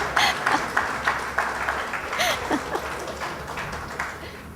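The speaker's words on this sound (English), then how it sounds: "I'm going to ask the audience for another round of applause." An audience at a book launch applauds, a broad steady wash of clapping with scattered louder claps that fades slightly toward the end, with no voices over it.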